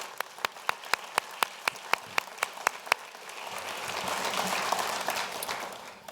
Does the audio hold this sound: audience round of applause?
yes